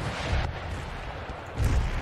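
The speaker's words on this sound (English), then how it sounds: "So we're just bombarding the hell out of it." Artillery bombardment during a field battle at Edinburgh in the strategy game Empire: Total War, heard as deep, distant booming bursts, two heavier thuds standing out over a steady low rumble.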